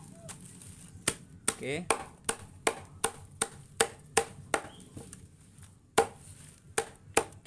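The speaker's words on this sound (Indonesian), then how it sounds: "Kita potong kecil-kecil ya teman-teman." Leaves being chopped into small pieces on a board for homemade fertilizer, a steady series of sharp, close knife strikes at roughly even intervals, with a brief spoken word.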